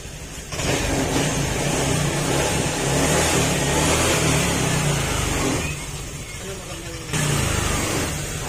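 A Honda Click 125/150 scooter engine, with oil and coolant mixed together, runs steadily while warming up, a loud continuous drone that dips briefly and then returns, with someone talking over it.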